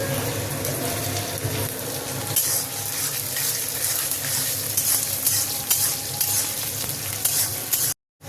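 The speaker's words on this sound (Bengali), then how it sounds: "এবার কাজু কিশমিশটা দিয়ে দেবো। এর সঙ্গে বিনস আর তেজপাতাটাও দিয়ে দেবো।" Cashews, raisins, green beans and a bay leaf fry in hot oil for fried rice, making a loud, steady sizzle with stirring scrapes throughout, before the sound cuts out abruptly near the end.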